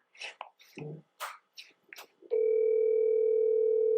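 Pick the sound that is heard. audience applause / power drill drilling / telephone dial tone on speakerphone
telephone dial tone on speakerphone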